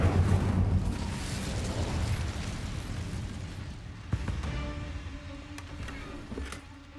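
The Incendio fire spell cast in the video game Hogwarts Legacy: a loud roaring whoosh of flame that slowly fades, with a sharp burst partway through and a crackling tail, with no talk.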